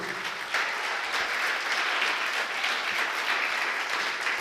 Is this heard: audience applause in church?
yes